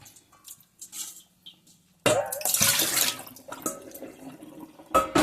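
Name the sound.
vegetables being washed in water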